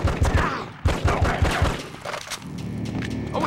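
Gunfire from the Die Hard: Vendetta video game comes in a rapid burst of sharp shots in the first half, followed by a lower rumbling tail and a sustained tone.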